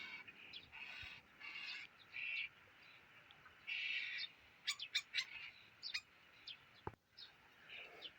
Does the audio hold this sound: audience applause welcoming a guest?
no